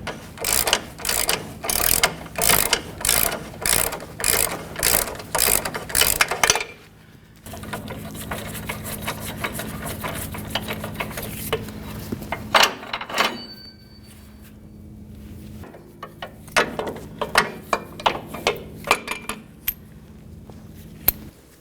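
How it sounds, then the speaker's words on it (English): A coil spring compressor tool is worked off a Ford Ranger front suspension: a fast run of rhythmic ratcheting clicks, then metallic clanks, a whirring hum and a burst of rapid clatter near the end, close and loud. "we'll continue on with removing the coil spring compressor tool"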